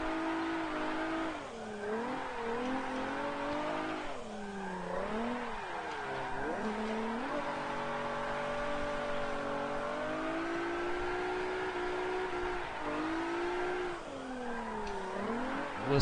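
Engine and spinning tyres in the Forza Motorsport 7 racing game, a steady droning note that rises and falls as the car spins repeatedly, with no talk over it.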